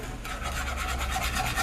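A metal whisk scrapes rapidly in a new hard ceramic non-stick pan while making Swedish meatballs, a close, rhythmic rasping swish with no talk.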